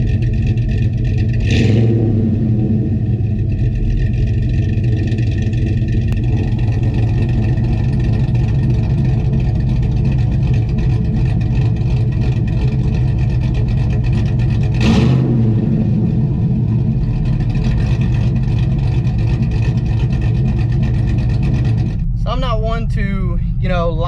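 Cammed Chevrolet Silverado truck engine rumbling with a loping, choppy idle and a couple of sharp revs, loud and close, with people talking over it.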